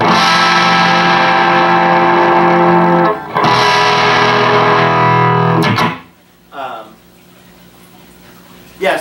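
An electric guitar runs through a 1970s Acoustic 470 bass/guitar amp, giving a dense, distorted, in-your-face sustained tone that cuts off briefly, resumes, then stops abruptly, leaving quieter fragments after.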